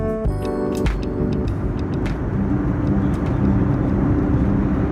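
Cabin of a Philippine Airlines Airbus A321neo descending on a Manila to Cebu flight: a steady low engine and airflow roar fills the cabin, with a few brief tones and clicks near the start.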